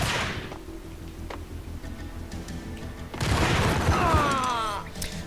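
Bursts of Ingram submachine gun fire in the Max Payne video game, loud and rapid, with a sharp opening volley, brief clanks, then a denser, louder stretch of shooting mixed with game effects.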